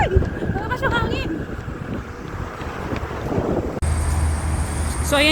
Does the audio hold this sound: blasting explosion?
no